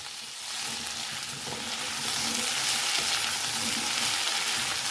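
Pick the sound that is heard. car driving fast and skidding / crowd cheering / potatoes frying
potatoes frying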